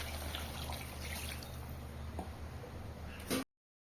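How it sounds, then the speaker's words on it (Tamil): Water is poured into a pan of quail cooking for a Chettinad pepper fry, making a soft, steady trickle that stops abruptly. "நம்ம கொஞ்சம் தண்ணி ஊற்றணும்."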